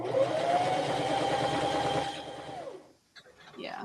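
Sewing machine stitching through fabric while sewing a hoodie: a steady, close mechanical whir that runs for about two seconds and winds down, followed by a voice.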